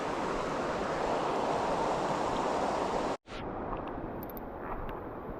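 Dense, steady hiss of heavy rain pouring down, briefly cut off and then continuing slightly softer.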